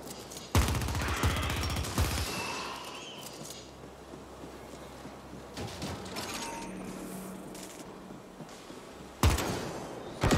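Explosions and bursts of gunfire in the cyberpunk shooter video game The Ascent, sharp loud blasts and rattling shots at the start and again near the end, with quieter game ambience between.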